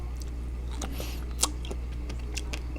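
Crisp crunching from someone eating a strawberry snack with a crunchy, sesame-like coating, a few close bites and chews spread over a few seconds above a steady low hum, with no talk.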